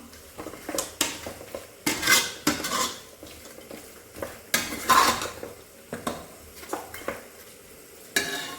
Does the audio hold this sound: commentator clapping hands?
no